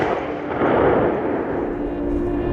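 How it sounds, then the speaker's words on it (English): A massive explosion's shockwave arrives as a loud, sustained rolling roar with no clear break, from a blast large enough to raise a mushroom cloud and set the surrounding hills on fire. "Wow, here comes the shockwave."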